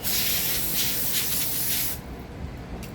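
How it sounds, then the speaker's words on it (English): Hissing spray rinses a Briggs and Stratton 8.50 carburetor part from a Snapper lawn mower, a steady close rush of water or cleaner that runs for about two seconds, then stops, leaving faint background noise. "I'm going to take it off camera and really rinse it real good."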